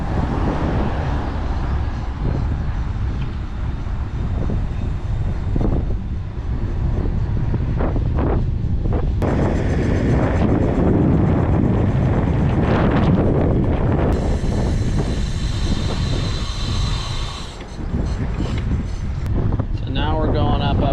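Riding a Segway C80 electric moped, with heavy wind buffeting the microphone and a broad rumbling roar throughout, a brief higher whine partway through; a voice talks over it.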